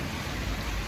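Heavy rain pouring down, heard as a steady, dense wash of noise, loud and close, with nothing else over it.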